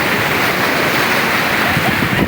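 Ocean waves surge and break on Sendang Barang beach where children play in the surf, a loud, continuous roaring wash filling the whole clip.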